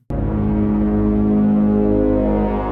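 Harp bass strings played through a TARS fuzz and a JHS octave reverb pedal make a loud, thick, sustained droning tone that swells in abruptly and holds steady without a break.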